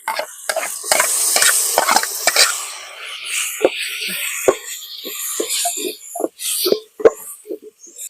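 Ginger, garlic, onion and tomato are sautéed in a pan with a spatula, producing intermittent close scraping and clacking strokes over a faint sizzle, with a voice talking at the start.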